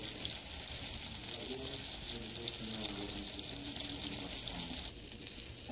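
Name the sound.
bacon wrapped meatloaf patties frying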